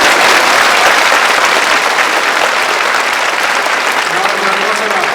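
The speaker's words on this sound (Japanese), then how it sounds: "奥さんにも拍手をいただけたら幸せです。" Loud, sustained applause from a large audience fills a sumo retirement and hair-cutting ceremony, steady dense clapping throughout with a faint voice underneath near the end.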